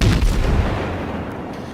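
Konigsberg cruiser guns in World of Warships firing a heavy booming salvo, a loud close blast at the start fading into a long rumbling decay.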